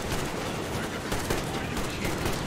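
Heavy gun fire in the Metro Exodus video game, a rapid, dense stream of shots rattling continuously at moderate loudness, with no talk over it.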